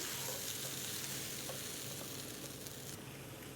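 Greek yogurt waffle batter sizzles steadily in a waffle maker, a soft continuous crackle and hiss with no talking.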